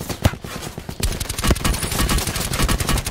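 Rapid automatic gunfire from a first-person shooter video game, dense bursts that keep going steadily and loudly for the whole stretch after a brief scattered start.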